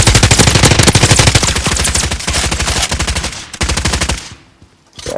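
Rapid automatic gunfire in a duos battle video game, loud and close, with bursts of fast shots that break off briefly before resuming.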